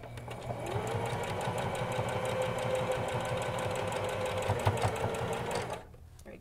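A sewing machine stitches a fabric mask in one steady, continuous whirring run that lasts several seconds and then stops abruptly.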